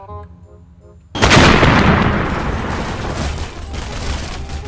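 A loud burst of game gunfire from Godzilla's tail in People Playground, with a sudden heavy blast followed by a dense, sustained roar of rapid shots that slowly fades, with no talk.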